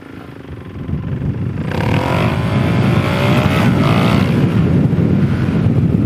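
A motorcycle rides past doing a wheelie, its engine swelling into a loud, steady roar with wind buffeting close to the microphone.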